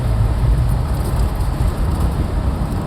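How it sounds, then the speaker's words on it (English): A 1972 Pontiac LeMans pro-touring car with paddle-shift downshifting gives a deep, close engine rumble with road noise, heavy and steady through the short stretch. "You can downshift it with the paddles."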